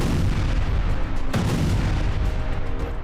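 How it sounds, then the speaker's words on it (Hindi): Heavy booming blasts rumble from a city in Iran, a dense continuous roar with a sharper crack near the middle, loud and distant-sounding without any voices. "इमारतों के पीछे की तरफ होते इन जोरदार धमाकों को देखिए।"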